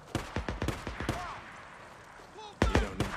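Gunfire in the video game Days Gone comes as a rapid string of sharp shots, then a quieter stretch with faint tones, then another close burst of shots near the end, with no speech.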